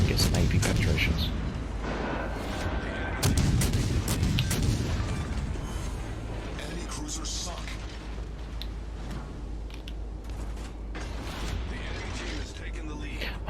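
Destroyer gunfire with armor-piercing shells in World of Warships Legends: several heavy booming shots early on, one strong blast near three seconds, then a steady mechanical rumble that continues under game effects.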